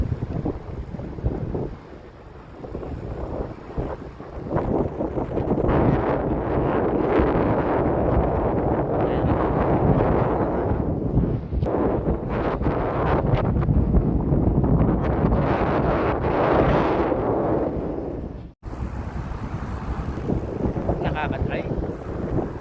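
Strong wind buffets the microphone in a steady, loud roar while cycling at sunset, for most of the clip, with a brief break near the end.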